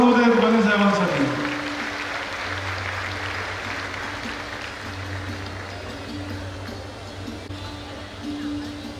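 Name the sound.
crowd applauding loudly at political rally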